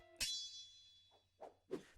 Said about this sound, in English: The rapier flies off into the sky with a ringing metal sound.